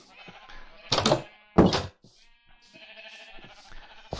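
Two loud, sharp sheep bleats from Minecraft sound about half a second apart, surrounded by quieter in-game ambience and soft taps.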